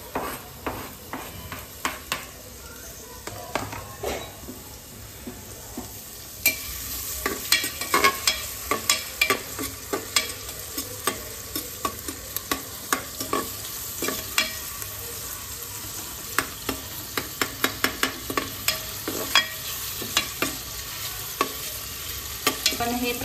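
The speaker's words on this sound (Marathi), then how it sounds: "यात आपण जो बारीक चिरलेला कांदा आहे तो थोडासा पिंक कलर येईपर्यंत भाजून घेणार आहे।" Finely chopped onion frying in a pan, cooked for a spicy black-masala chicken: a steady loud sizzle with repeated scraping stir strokes throughout, no voices.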